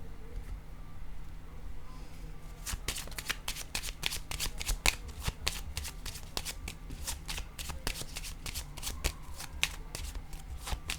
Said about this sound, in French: Je vais déposer une carte maintenant en cette zone.